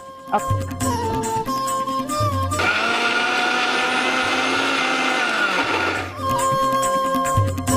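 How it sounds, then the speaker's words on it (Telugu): A mixer grinder whirs loudly at close range while blending ingredients for a semiya rice kheer in a home kitchen, running in a steady drone for a few seconds. Background music plays before and after the burst. "పాలు హీట్ అయ్యేలోపు దీన్ని మిక్సీకి వేసుకున్నాము."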